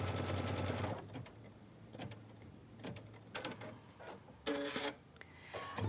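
An embroidery machine stitches out a design for a patriotic quilt, giving a short burst of rapid mechanical chatter before settling into intermittent clicks and thumps at moderate loudness.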